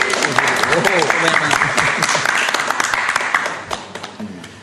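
Studio audience applause during a live Indonesian show, a burst of scattered claps that is loud at first and then tapers, with voices talking over it.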